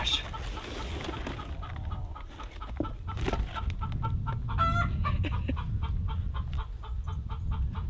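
Backyard chickens cluck and squawk close by in an irregular, busy chatter, with sharper calls standing out. They keep up over a low outdoor background hiss.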